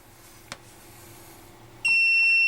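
A handheld voltage tester checking a light switch sounds a steady, loud electronic beep that starts abruptly near the end and holds, after a quiet stretch with a single faint click.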